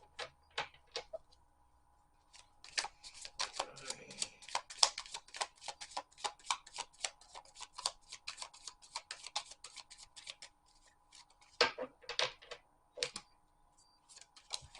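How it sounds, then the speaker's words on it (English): Tarot cards shuffled by hand in a quiet room, a long run of quick soft riffling flicks and slaps that come in bursts with brief pauses, close and fairly faint. "I'm going to shuffle."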